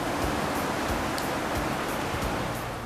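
Ocean waves wash steadily onto the shore at a seaside campsite, a dense, loud, unbroken roar of surf with no distinct breaks and no voices.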